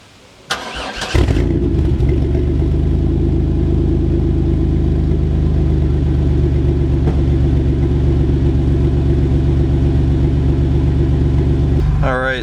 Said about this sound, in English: Alright, so I'm in the van, it's running